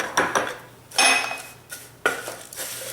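Millet and flax vegan pancake batter being stirred in a bowl, with a few close, distinct scraping and clinking bursts of utensil against the bowl, spaced by short pauses.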